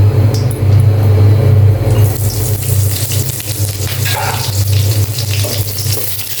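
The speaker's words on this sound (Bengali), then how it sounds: "ফোড়নের সাথে মরিচটা একটু ভালোভাবে ভেজে নিব।" Green chili frying in hot oil as a tempering for a bottle gourd curry, a steady close sizzle running the whole time with a brief stirring scrape partway through.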